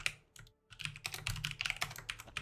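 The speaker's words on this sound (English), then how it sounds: "I'm just gonna keep typing" Rapid typing on a computer keyboard, close and crisp, with irregular bursts of key clicks and one brief pause near the start, no voices.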